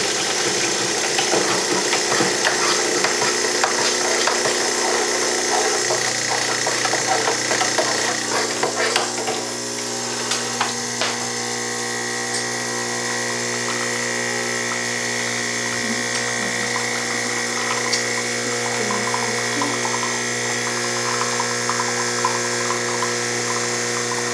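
A home espresso machine pumps and brews a shot for a vegan latte, giving a steady, loud mechanical hum and buzz that deepens partway through and runs continuously, close up, with no talking.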